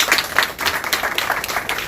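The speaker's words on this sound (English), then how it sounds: "please give them a round of applause" Applause from a community gathering of Guinean people in New York, as volunteers are acknowledged; a moderate patter of clapping from a modest crowd, fairly steady for a couple of seconds.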